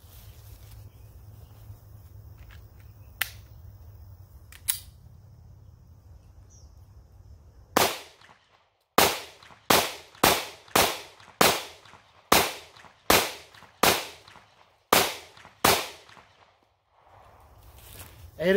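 A Taurus GX4 9mm pistol fires Federal Syntech 124 grain flat-nose rounds at a range: a rapid string of about a dozen loud, sharp shots in quick succession, preceded by faint handling clicks.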